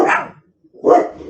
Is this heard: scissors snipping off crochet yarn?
no